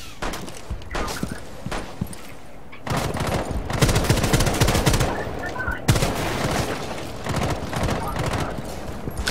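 Bursts of rapid gunfire in a Rainbow Six match crackle in loud volleys, broken by a short pause and then resuming, with a heavier blast among them and talk faintly underneath.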